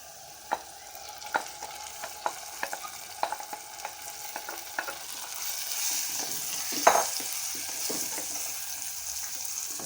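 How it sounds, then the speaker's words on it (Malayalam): Bilimbi stir-fried with sautéed onions in a pan for a Thalassery-style dish, a steady sizzle and fry under repeated sharp clinks and scrapes of a spoon stirring, with a louder clatter near the end and no talking. "ഉള്ളി വഴന്നതിന് ശേഷം വൃത്തിയാക്കി വെച്ച ഇളമ്പക്ക അതിലേക്ക് ചേർക്കുക."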